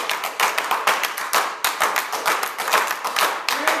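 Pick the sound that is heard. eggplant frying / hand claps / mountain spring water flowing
hand claps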